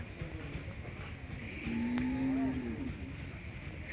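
A single deep, drawn-out moo rises over low background noise, lasting about a second, from cattle at a livestock market during the Ghati Subramanya fair.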